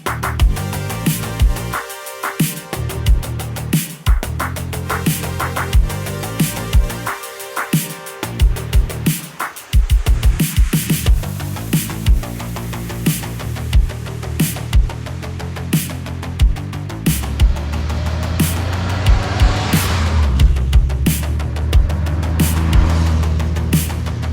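A 1981 Triumph TR7 Convertible pulls away and drives along a seafront, its engine note rising and falling steadily, with a few sharp clunks early on before a sustained louder road and engine drone.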